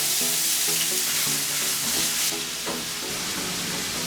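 Vegetables sizzling and frying in hot oil, a steady loud crackle and hiss with occasional stirring clatter.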